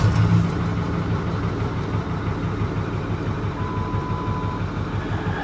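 A Ford F250 Super Duty engine idles steadily and close by, with a low continuous rumble and no clear start at the beginning. The truck is low on fuel and may be misfiring.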